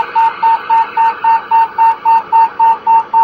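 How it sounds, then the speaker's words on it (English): A motorhome's air system beeps while filling the shocks as it pulls out of a truck stop: a steady run of twelve evenly spaced, sharp electronic tones, clear and close, with no talking. "That beeping is just the motorhome letting us know that it's filling up the air for the shocks and such."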